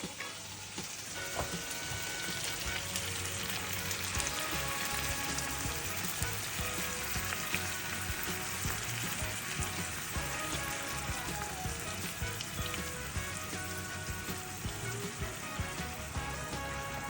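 Milk poured into a hot cooking pan sets off a loud, steady sizzle and crackle of frying that carries on throughout, close by, with no talking.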